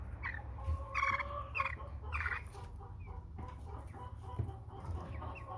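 American Bresse chicks about five weeks old cluck and chirp repeatedly while being handled and sorted by feel, with close, busy bursts of calls, no talking.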